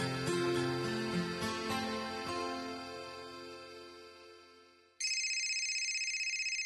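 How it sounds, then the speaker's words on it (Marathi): A telephone ringtone plays a melodic tune that fades out, then a sharper electronic ring starts loudly and repeats steadily, with no talking over it. "मीराच्या सासूबाईंचा फोन आहे."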